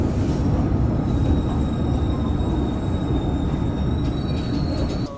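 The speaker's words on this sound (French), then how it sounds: "nous sommes dans le métro" A metro train rumbles along the London Underground, a loud continuous roar of wheels on rails with thin squealing tones drifting above it, no one speaking.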